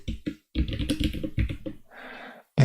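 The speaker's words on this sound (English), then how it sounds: "I'm currently using a mechanical keyboard." Fingers type on a mechanical computer keyboard in short bursts of clicky keystrokes, close and fairly loud, with brief pauses and a softer rustle near the end.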